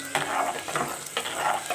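Onions frying in oil in a pan while a spoon stirs them continuously to brown evenly for matar pulao, giving a steady close sizzle broken by repeated scraping strokes.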